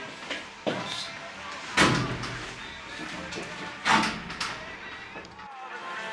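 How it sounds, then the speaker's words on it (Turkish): A door is pulled shut, giving a couple of heavy thuds amid scuffling and people talking nearby. "Kapıyı çek."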